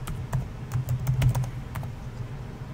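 Quick, uneven keystrokes on a computer keyboard as setup details for an Ubuntu 24.10 install are entered, close and clear, with scattered clicks and small bursts over about three seconds and no talking.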